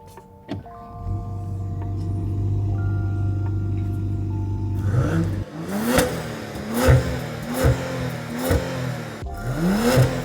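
A 2024 BMW X6 LCI cranks and fires, settling into a steady idle before a series of sharp revs rise and fall in quick succession, loud and close with no talk.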